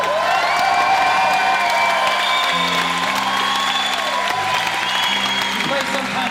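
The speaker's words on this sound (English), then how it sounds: "the louder you clap in between songs with a band, the better they play in the middle of the songs" A live concert crowd at a singer-songwriter's club show claps, whoops and cheers loudly and continuously between songs, with a faint instrument tone ringing underneath.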